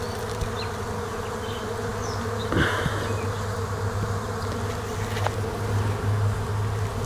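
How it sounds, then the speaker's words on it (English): Honey bees hum steadily around an open hive box on a homestead, their dense buzzing continuous and close, with occasional louder passes near the listener and no speech. "I do have some bees landing on me."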